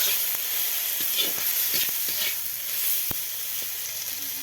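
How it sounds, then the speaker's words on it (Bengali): Tomato sautés with ground spices and turmeric in a pan for a cabbage dish, making a constant crackling sizzle with soft, irregular scraping and tapping of a stirring spoon, close and without talk. "এটা আমি সব মশলার সঙ্গে আরও একটু আমি কষিয়ে নিই"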